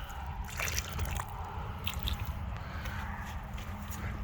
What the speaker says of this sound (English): I'm just going to give it a little water